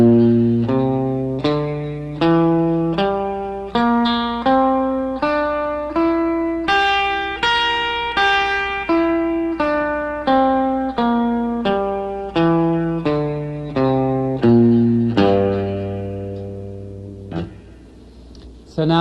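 Electric blues guitar playing a five-note pentatonic scale variant with an E natural in place of the F, about two dozen distinct plucked notes climbing and descending in a steady rhythm with light effects, ending on a held note.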